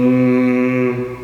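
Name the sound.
voice imitating the buzz of a female bee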